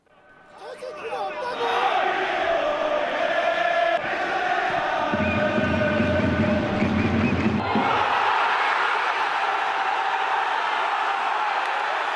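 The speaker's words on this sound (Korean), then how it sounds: "실제로 경기마다 대전 축구 팬들의 응원 소리 경기장을 가득 채우고 있습니다" Daejeon Hana Citizen football supporters cheer and chant in a stadium, a dense, loud crowd roar building in the first two seconds and holding steady, with a deep rhythmic swell of massed voices and drumming through the middle.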